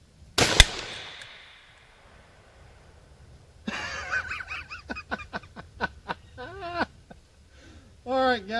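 A single sharp rifle shot from a Savage 12 LRVP at an outdoor range, fired at a scope target 110 yards out, loud and close with a trailing echo, followed by people talking and a honking goose.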